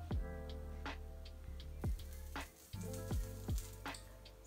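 A steady hiss and sizzle with several sharp crackling pops at irregular intervals, close up, no voices.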